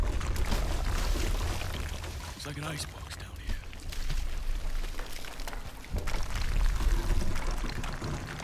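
Water flowing in Call of Duty: Advanced Warfare, a continuous loud rushing and pouring wash with low rumble that persists throughout, with speech over it.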